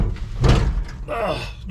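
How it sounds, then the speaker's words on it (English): A truck's driver-side door swings shut with a muffled thud inside an old, rusty truck cab, heard close, and someone speaks over it. "my driver's door just"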